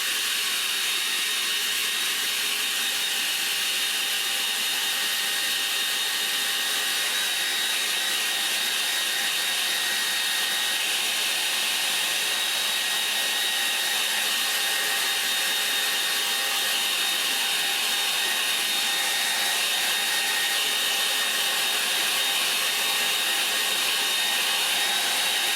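A hair dryer blows steadily over a watercolour painting, a constant close hiss-and-whir of airflow running unbroken throughout with no speech.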